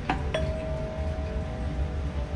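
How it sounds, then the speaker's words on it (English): Two quick dull strikes from a Ring Chime Pro doorbell chime, muffled by its adhesive mounting, the second ringing on as a soft tone that fades slowly. "this is what your doorbell is going to sound like"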